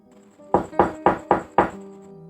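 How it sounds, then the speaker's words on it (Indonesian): Five evenly spaced knocks on a bedroom door, close and solid, each a sharp thud that fades quickly, heard over a faint steady background tone with no talking. "Terdengar suara ketukan di pintu kamarku."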